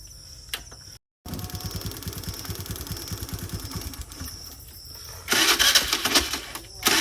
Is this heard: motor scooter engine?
yes